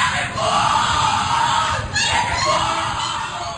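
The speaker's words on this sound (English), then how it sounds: "What you're hearing is the first recording ever made of the Skull and Bones initiation ceremony." Old recording of a Skull and Bones initiation ceremony at Yale, with shrieking and yelling voices that carry on continuously through a noisy, crowded room and rise in a surge about two seconds in.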